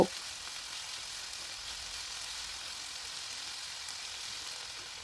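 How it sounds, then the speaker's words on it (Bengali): Onion, garlic and chilli paste fries in oil, a soft, even sizzle running steadily from start to finish, with a brief knock right at the opening. "এবারে মশলাটাকে অনবরত নেড়ে চেড়ে ভালো করে তেলের সাথে মিশিয়ে নিয়ে একটু কষিয়ে নেব"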